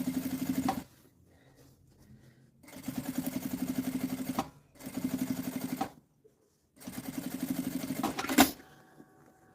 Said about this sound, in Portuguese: Passar a costurinha de meio pé de máquina aqui, ó.